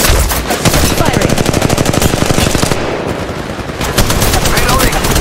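Sustained automatic weapon fire in the Apex Legends Mobile battle royale, loud rapid bursts running almost continuously with a short lull midway before resuming.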